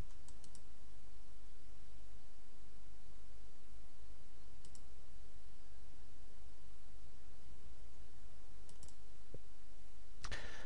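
Computer mouse clicking at a desk, several sharp single clicks spread apart over steady faint background hiss.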